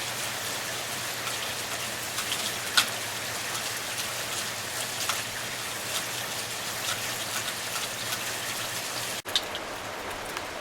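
Steady rain falls by the Smith River, making a continuous even hiss of drops on surfaces with an occasional louder splash, close and unbroken, with no voices.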